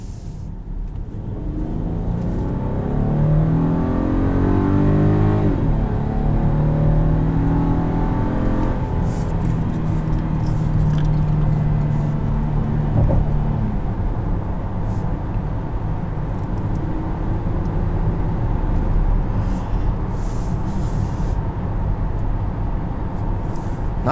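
A 2021 Volkswagen Atlas SE R-Line SUV accelerates hard from the driver's seat, its engine note climbing steadily under a loud, constant road and wind roar that holds for the whole stretch, with no talking.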